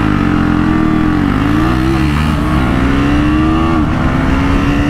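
2024 KTM Duke 250 motorcycles with quickshifters accelerate hard in a drag race, a loud close engine note climbing in pitch through rapid shifts, with short dips marking each gear change.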